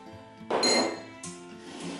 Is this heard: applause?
no